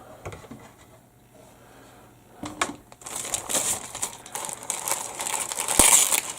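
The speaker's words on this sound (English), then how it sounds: "Resealable bag. Parts coming off." Plastic resealable bag holding 1/48 scale model kit parts crinkling up close, quiet handling at first, then a burst of loud crackling rustles as the bag is worked open.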